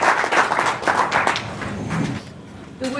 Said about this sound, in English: Should we give that a round of applause?